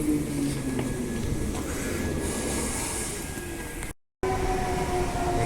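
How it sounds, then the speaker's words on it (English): A Fremantle line train arrives at a Perth suburban station with a steady rumbling roar of rolling wheels and faint high squeals, loud and close, broken by a brief gap. "Okay, here's the Fremantle train now."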